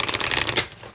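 A deck of blue-foil oracle cards being riffle-shuffled up close, a quick rapid flutter of crisp card snaps lasting about half a second, then a soft settle.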